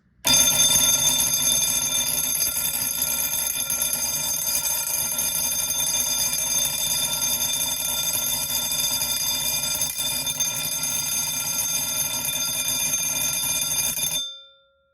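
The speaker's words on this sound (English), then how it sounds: "This particular bell doesn't sound as good as some of my other bells." A fire alarm bell rings nonstop with a loud, rapid metallic clatter for about fourteen seconds, then cuts off abruptly.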